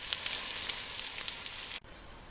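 Celery pulp veggie cutlets with parsnips and onions fry in a pan, a loud, steady close sizzle with sharp pops that cuts off abruptly near the end.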